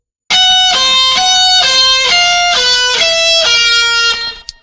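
Distorted electric guitar plays a short high-pitched solo phrase built on a sharp fifth, bright sustained notes stepping up and down with vibrato, loud and close, ending abruptly.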